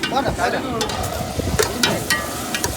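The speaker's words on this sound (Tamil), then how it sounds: "கடுகு போடுறேன்." Mustard seeds hitting hot oil in a pan while cooking aboard a fishing boat at sea, a loud, close, continuous crackling sizzle with sharp pops and a spoon stirring, wind noise underneath.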